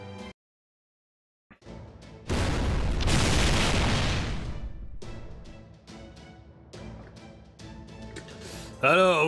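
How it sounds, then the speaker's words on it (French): Cannon fire in the video game Fate/Grand Order, a loud booming blast with a sustained roar, followed by a series of sharp bursts and a rising tonal effect at the end. "Alors, vous aimez mon petit canon,"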